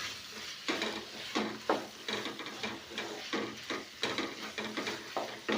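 Okra being stirred in a cooking pot, a spoon scraping and knocking against the pot in repeated strokes about every half second over a soft sizzle, close and moderately quiet.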